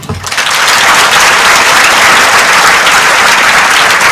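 A loud, dense round of applause from an audience at a college induction and orientation program, starting abruptly and holding steady at full strength throughout.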